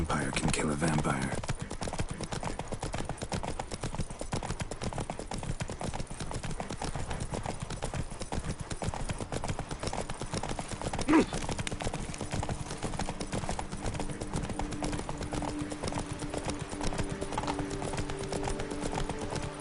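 In The Witcher 3: Blood and Wine, Roach the horse gallops with a dense, fast run of hoofbeats that carries on steadily from start to finish, under game voices and talk.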